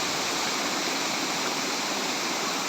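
Steady, dense roar of a deep waterfall at Pangil Falls in Laguna, close and loud throughout with no break and no speech.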